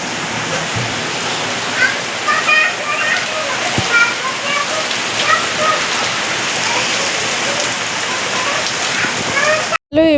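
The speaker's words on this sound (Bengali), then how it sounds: "কি জোরে বৃষ্টি এসেছে দেখো।" Heavy rain pours down at night, a dense, loud, steady patter on surfaces with scattered splashes and a voice talking over it.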